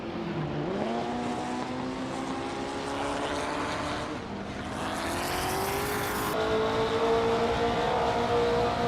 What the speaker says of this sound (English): the race just kicked off at Barbara Motorsports Park, and leading the pack is Bot X Nobodixel in a stunning 1966 Porsche 906